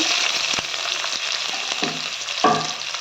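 Curry leaves, mustard seeds, chopped green chillies and onion fry in hot oil in a pan, making a steady close hiss broken by small pops and crackles, with one louder burst near the end.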